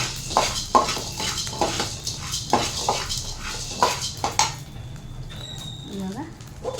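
Coriander seeds are stirred while frying in a pan, heard as a run of rhythmic metallic scrapes and clinks. Near the end the stirring stops and a quieter, higher stretch follows.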